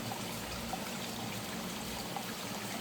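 Water flows steadily into a trap hole in wet soil in a new food garden, a continuous close trickling and streaming rush without pauses.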